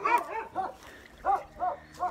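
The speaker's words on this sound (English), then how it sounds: "Dogs are excited about something over there." Farm dogs bark excitedly as supper time nears, about five sharp, evenly spaced barks in quick bursts at moderate distance, with no talk over them.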